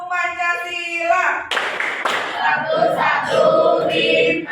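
A group does the Pancasila clap chant in a classroom, voices calling out in rhythm with bursts of hand clapping between the lines, loud and energetic.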